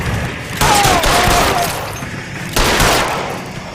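Gunfire erupts in a shootout in the LA Noire video game, with loud, dense bursts of shots and booms that come in two heavy volleys and then decay.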